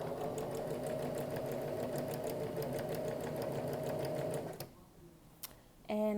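A sewing machine runs steadily, stitching a jingle dress, with a rapid continuous mechanical whir that stops near the end before a brief restart.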